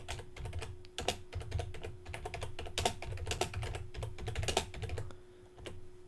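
Rapid, uneven keystrokes on a computer keyboard, fairly close and steady for several seconds with brief pauses, entering text while building a WordPress site page; no talking.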